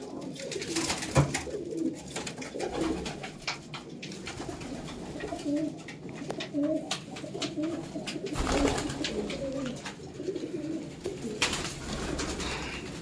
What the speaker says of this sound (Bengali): অনেক জোড়া পায়রা আপনাদের শখ করালাম